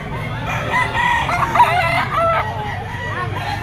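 A white-legged gamecock rooster crows loudly and close, one drawn-out crow rising and falling over a steady low background hum.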